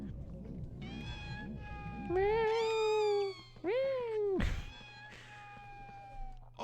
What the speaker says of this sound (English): the fact that they use the weird kitten sounds for the pixies will never stop to confuse me